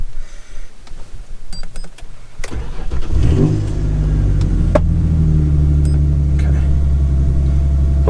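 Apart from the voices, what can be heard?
Ford Sport Trac engine first start after electric fan conversion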